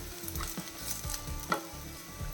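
Chopped ridge gourd is stirred into sautéed onions in a pan, giving soft sizzling with a few light scraping stir strokes, brief and close, with no talking.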